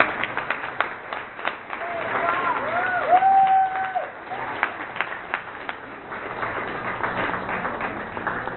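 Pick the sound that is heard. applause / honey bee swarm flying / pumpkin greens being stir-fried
applause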